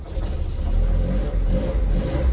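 A cold Chevrolet Monza engine, just past idle, revved with a series of throttle presses, loud and close, its deep rumble rising and falling steadily with no talk.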